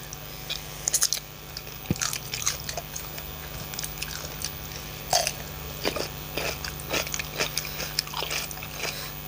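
Close, wet chewing of sticky rice with grilled chicken and spicy som tam, with irregular squishy bites and smacks, occasional crunchy crisp salad vegetables, and no talking.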